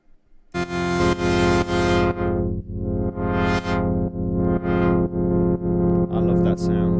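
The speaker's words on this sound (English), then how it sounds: "That's basically the string machine being running through this filter, creates these harmonics" A thick, buzzing Eurorack modular synth string-machine tone run through a filter sweeping up and down in rhythmic waves, loud and sustained, ending in brief glitchy blips.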